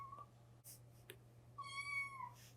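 A kitten meows clearly at close range, one long drawn-out mew with a short fainter call before it, over a steady low hum.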